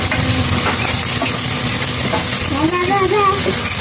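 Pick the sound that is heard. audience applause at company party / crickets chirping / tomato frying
tomato frying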